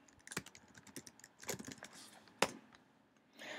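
Typing on a computer keyboard, with irregular bursts of crisp keystrokes and one sharp louder key strike, close and clear with no talking.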